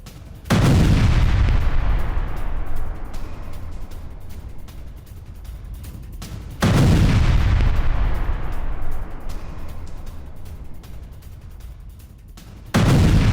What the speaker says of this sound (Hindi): गाजा में इजराइल की भीषण बमबारी